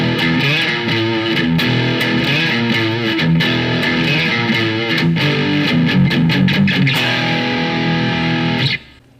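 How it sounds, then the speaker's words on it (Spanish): Electric guitar played through a distortion pedal, loud, dense and aggressive chords and riffs ringing continuously for about nine seconds before cutting off abruptly, with no voices. "el clásico efecto de la guitarra eléctrica que se llama distorsión, que te da este sonido mucho más potente y agresivo"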